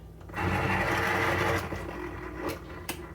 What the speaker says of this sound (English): I have a can opener here.